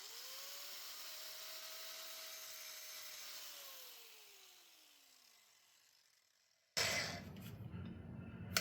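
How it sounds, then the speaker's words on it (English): An angle grinder cuts away part of a Mazda Protege shifter linkage during a bushing replacement. A steady whirring grind winds down and fades, then a sudden loud, harsh burst of grinding starts near the end. "Just grind that off a little."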